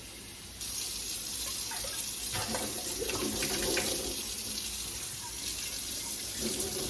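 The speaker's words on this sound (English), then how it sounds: "I'm still going to just rinse them really quickly with just a little bit of cast out soap" Running tap water pours steadily into a sink as items are rinsed under it, with faint splashes and shifts in the flow, close and continuous.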